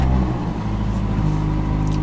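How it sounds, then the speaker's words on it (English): A 2016 Mazda MX-5 GT Roadster engine catches and settles into a steady, loud idle hum inside a showroom, close and alone with no talk. "Fires right up."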